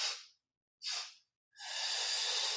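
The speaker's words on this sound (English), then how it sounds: "2 sniffs, 1 blow. You stay nice and steady." Two short sharp sniffs through the nose followed by a long, steady forceful exhale, close and clear with no talking.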